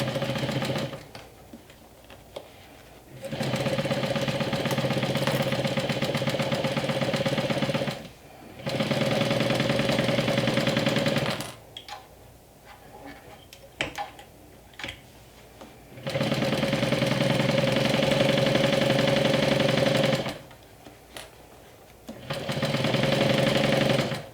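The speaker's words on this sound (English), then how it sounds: "And I will sew from the back." A home sewing machine stitches fabric from the back side while making a bag gusset and back panel, running in four steady bursts of several seconds each, separated by short pauses.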